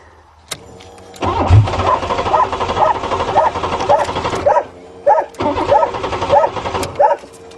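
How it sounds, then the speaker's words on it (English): Crushed Buick's engine cranking repeatedly and trying to start after being flattened by a 20-ton bulldozer, loud rhythmic starter churning in several bursts with brief pauses, close by and not catching. "Let's see if this thing fires up."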